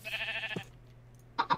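Sheep bleating in a farming video game: a long wavering bleat with a harmonic tail, then after a pause two short bleats close together, loud and near.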